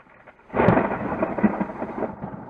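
Thunder from a multi-stroke cloud-to-ground lightning flash during a storm in strong winds: a sudden loud crack at the onset gives way to a sustained, rumbling roll that fades slowly, with no voices.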